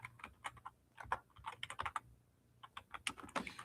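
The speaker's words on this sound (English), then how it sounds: "Why am I typing this?" Typing on a computer keyboard: fast, uneven clicking keystrokes close by, with one brief pause in the middle, quiet overall and with no talking.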